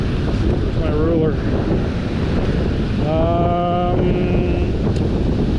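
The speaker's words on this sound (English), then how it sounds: "the wind's getting brutal" Strong wind buffets the microphone at the water's edge during a fishing outing, a loud constant rumble with surf underneath, while a voice briefly calls out partway through.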